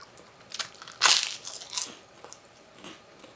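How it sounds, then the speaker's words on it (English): A dry wafer cookie with sweet filling crunches as it is bitten, with one loud crisp snap followed by smaller crumbly crunches and chewing, very close and without talk. "So I'm just going to bite into it."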